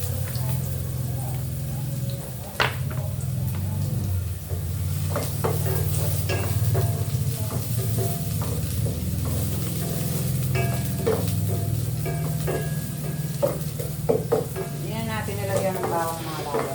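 Onions sautéed in a pan, a constant close sizzle broken by repeated scraping stirs and clinks, with someone talking over the cooking.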